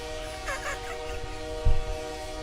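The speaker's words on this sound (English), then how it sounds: "all I did was blow the horn" A video-game train horn sounds in a steady, held tone with harmonic layers, followed by a short low thump of air release near the end.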